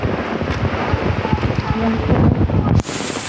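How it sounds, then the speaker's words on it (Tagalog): Strong winds from Typhoon Paeng roar steadily and loudly, buffeting the microphone with gusts and a constant rushing noise, while a voice speaks briefly. "Grabe, lakas ng hangin, no?"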